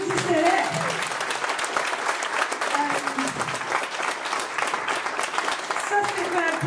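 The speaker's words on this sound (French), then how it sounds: "Les partenaires, oui, applaudissez-les." An audience at an annual general meeting applauds a group of partners, giving a steady, sustained round of clapping while voices talk underneath.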